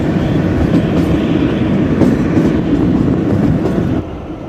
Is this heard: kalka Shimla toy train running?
yes